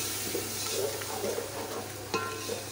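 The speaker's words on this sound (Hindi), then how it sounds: "इसको आपने चम्मच के साथ अच्छे तरीके से हिलाना है" A spoon steadily stirs a tomato and dry powdered spice masala for black chickpeas, giving soft continuous scraping over a low sizzle, with one sharper clink of spoon against the pot near the end.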